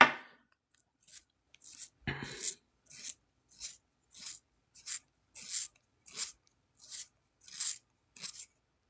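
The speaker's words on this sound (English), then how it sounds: "oh, great. These coloring pencils." Coloring pencils scratch across paper in a series of about a dozen short, rasping strokes with even pauses between them, heard alone and close up.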